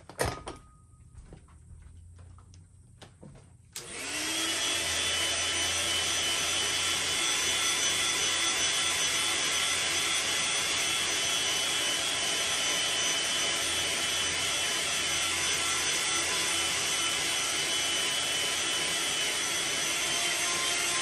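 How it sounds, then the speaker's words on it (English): A heat gun blasts hot air onto freshly painted fishing lure paint to set it, kicking on after a few quiet seconds and then roaring steadily and loudly, a broad, constant whoosh with no talk. "Let me go ahead and heat set this really fast."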